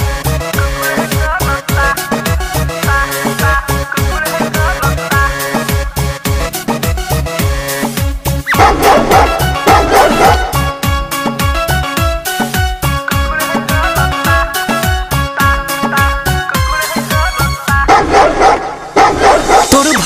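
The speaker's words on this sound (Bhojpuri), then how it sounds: "ए डार्लिंग हमरा के डिस्टर्ब तोहर कुकुरे करता।" A dog barks repeatedly in a fast rhythm, woven through a loud, driving Bhojpuri-style song with dense percussion and music throughout.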